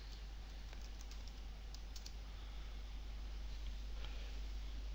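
Keys tapped on a computer keyboard while a file name is typed, a faint, steady patter of small clicks heard close up over a constant background hiss, with no talking.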